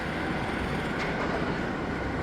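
At Blackpool Pleasure Beach, the empty Infusion roller coaster train rumbles along its track in a steady, continuous roar from a moderate distance, with no voices heard.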